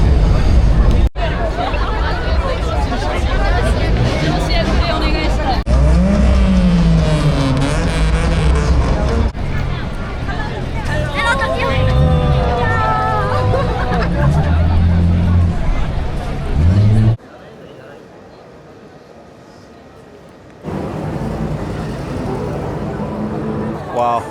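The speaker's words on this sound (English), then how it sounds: "big crowd." A big crowd fills a busy Tokyo street with a steady, loud hubbub of many overlapping voices, and traffic noise sits close by. Near the end the babble drops off abruptly to a quiet lull for a few seconds, then comes back.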